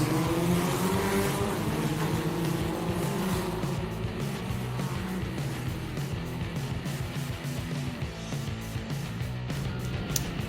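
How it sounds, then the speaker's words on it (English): IAME Cadet racing karts pull out of the pit lane at Larkhall during timed qualifying, several small engines buzzing and revving together, loud and close, with choppy pulsing as they accelerate away. "Green flag at the end of the pit lane for IAME Cadet, and out they go straight away."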